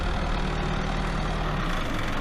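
Forklift engine held at full throttle during hay baling, a fault making it slowly lose fuel; a steady, loud low engine drone runs continuously with no speech.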